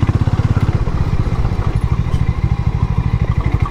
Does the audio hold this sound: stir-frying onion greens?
no